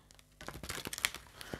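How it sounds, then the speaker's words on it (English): A deck of tarot cards is shuffled close by, a short, quiet burst of crisp papery flicks and rustles lasting under two seconds. "One more shuffle."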